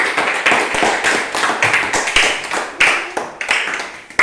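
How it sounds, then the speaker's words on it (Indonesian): Students in a classroom clap hands in a lively, uneven burst of close, crisp claps that continues for several seconds. "Oke, kita tepuk tangan."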